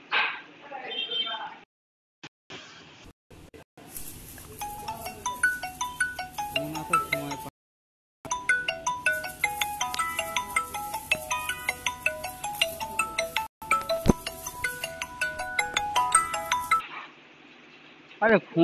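A mobile phone ringtone goes off during a Free Fire gaming session, playing a loud, repeating melodic tune for several seconds after brief talk and bursts of game sound.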